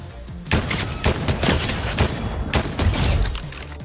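Rapid gunfire in the video game Fortnite: a loud, close string of sharp bursts, roughly ten shots in an uneven rhythm, with booming low impacts and no talking.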